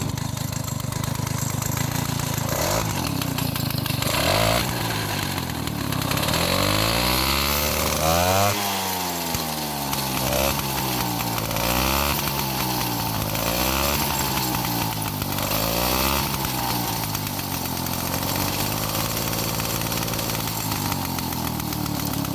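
A Peugeot moped's small engine runs with a loose exhaust outlet fixing, close and buzzy like a chainsaw, revving up and down in repeated rising sweeps over a steady idle rattle.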